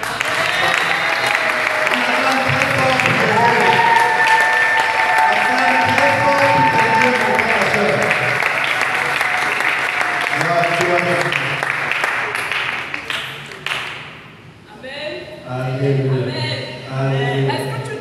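Church congregation at a family campaign service clapping and acclaiming, sustained applause blended with singing and shouted praise, then thinning out as voices carry on.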